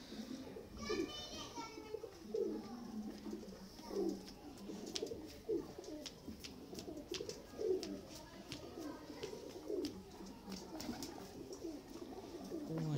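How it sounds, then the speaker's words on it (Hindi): Fancy breeding pigeons coo in repeated soft, rolling bursts every second or two, with background voices and children at play nearby. "ये मियाँ नज़ीर साहब वाले शौक वाले कबूतर हैं।"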